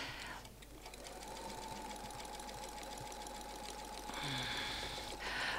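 A domestic sewing machine stitches quilted feather motifs with the help of templates, giving a steady, close run of rapid needle strokes that picks up slightly toward the end, with no voices.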